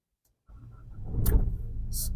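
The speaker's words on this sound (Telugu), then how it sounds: "స్టార్ట్ అయింది బండి" A 2015 Ford EcoSport Titanium diesel engine cranks and catches after a brief silence, then settles into a steady, close idle.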